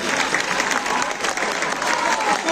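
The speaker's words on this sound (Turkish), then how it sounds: "Böyle bir daha alkışlayın" An audience at a municipal guitar show claps vigorously, a thick, continuous rattle of many hands with slight swells, close and unbroken by voices.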